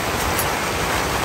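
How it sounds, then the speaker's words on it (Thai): Strong wind and heavy rain batter a tent campsite at the Khao Yai Thiang wind turbine farm in Thailand, a loud, unbroken roar of gusts and pelting rain with no let-up. "เมื่อเย็นเรายังใจชื้นอยู่นะคะว่าลมแค่เบอร์หนึ่งนะคะตอนนี้เบอร์ห้าแล้ว ทั้งลมทั้งฝน"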